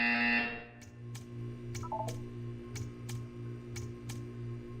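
In the video game Portal 2, an electronic tone ends and a series of evenly spaced sharp ticks follows over a steady low mechanical hum, with a brief chirpy blip partway through.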